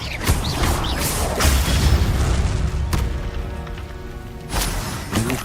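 Spell explosions from Bombarda and Confringo in the Hogwarts Legacy video game: several heavy booms and crashes spaced a second or so apart over a continuous rumbling game background.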